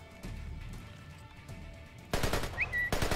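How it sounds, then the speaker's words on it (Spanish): Burst-fire gun in Splinter Cell Conviction, shooting three-round bursts: loud, close, sharp repeated shots hitting hard near the end, over softer background game noise. "Por esto es de ráfaga, ¿vale? Por eso siempre dispara tres tiros."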